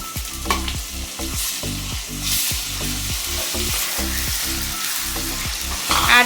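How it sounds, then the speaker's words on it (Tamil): Ginger garlic paste sizzles steadily in hot oil for a spicy chicken gravy, with a regular rhythm of spoon strokes scraping and stirring through the pan, close and continuous, no voices. "ஆட் பண்ணிவிட்டு நல்லா வந்து கிளறி விட்டுருங்க"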